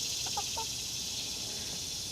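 A big hen, part Jersey Giant, gives a few short clucks early on, then falls quiet under a steady, loud buzz of cicadas that fills the rest of the outdoor scene.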